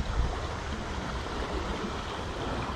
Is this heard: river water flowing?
yes